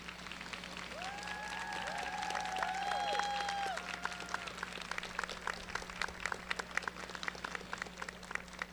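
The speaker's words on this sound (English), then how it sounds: "If you could give them a round of applause, I would appreciate it." An audience at a 2022 nursing pinning ceremony applauds the standing nursing faculty, a broad sustained patter of clapping that swells then continues steadily, with a few whoops and cheering voices early on and a low steady hum beneath.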